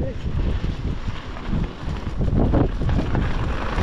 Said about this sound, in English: That wind's getting colder, Peter.